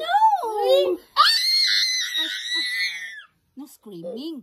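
A child screams loudly in a high, sustained wail lasting a few seconds, followed by short excited vocal sounds, with an adult voice speaking nearby.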